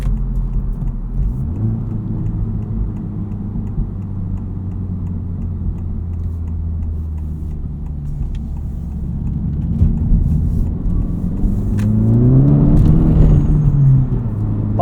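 A 2023 Honda Civic Type R drones steadily from inside the cabin, a low engine rumble and road whir that swell louder with a rising rev toward the end.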